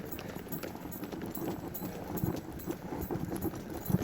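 Horse hooves clip-clop over ground at a handicap mounting facility on a trail ride at Kings Mountain State Park, South Carolina, a steady close rhythm of hoof strikes under low rustling background noise.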